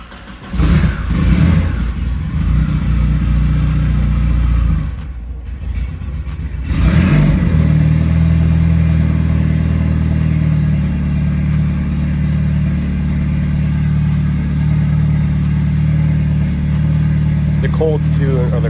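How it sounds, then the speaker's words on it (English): A turbocharged drift car's engine fires up for its first start on a new turbo: a short burst of cranking and revving, a brief pause, then a steady loud idle that continues under occasional background noise. "right now is the first start with the new turbo, and we're gonna check for oil leaks and that sort of thing"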